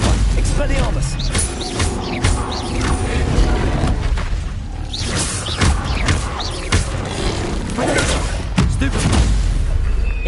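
Spell combat in the Hogwarts Legacy video game: loud, continuous bursts of magical blasts, booms and crackling impacts layered densely over a constant rumble, with no pauses across the stretch.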